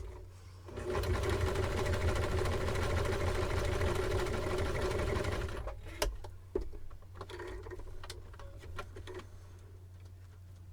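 A Kwik Sew K4203 sewing machine stitches in a fast, steady mechanical whir for about five seconds, then stops, leaving faint clicks and handling noises.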